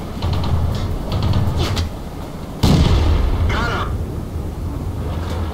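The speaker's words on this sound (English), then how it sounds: "Now that T1 is shooting at him, so he's got their attention while I shoot them from behind." Gunfire from a multiplayer shooter game, a loud sharp blast near the middle over a steady rumbling game background, with softer earlier shots and a voice talking through it.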